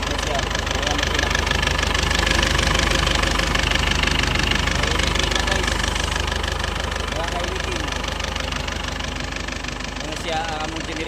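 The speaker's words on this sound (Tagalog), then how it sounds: "Ano siya ang among generator." A newly overhauled diesel generator engine, rated 40 kVA, runs steadily at idle with a constant low rumble and a faint knocking rhythm, close by, while someone talks briefly over it.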